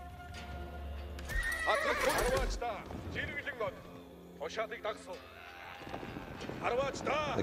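Horses in Age of Empires 4 neigh and whinny several times, with hooves clip-clopping in a busy game mix. Someone talks over the sounds.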